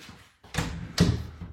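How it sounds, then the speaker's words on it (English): An interior bedroom door swinging shut with two quick thuds in succession, close by, the second slightly louder, with no talk over it. "And then you could close the bedroom door"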